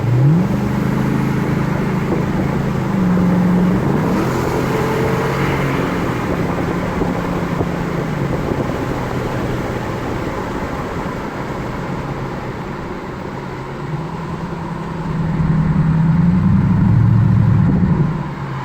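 A Ford F250 Super Duty with the 6.2 engine and a Dynomax exhaust cruising with windows down and then accelerating, a loud, steady low exhaust drone that rises in pitch in two surges, heard from inside the cab, no talking.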